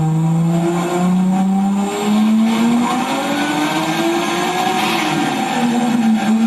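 A car being tuned on a dyno at Dyno Extreme with a brand new setup, its engine held at a loud sustained drone with slowly shifting pitch, a thin high-pitched whine riding above it throughout.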